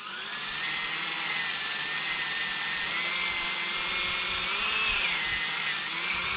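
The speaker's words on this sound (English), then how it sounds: "We'll drill all the way through." A power drill whines steadily as it bores through a homemade catfish bank pole, a high constant motor pitch with slight wavering under load, close and continuous with no talk.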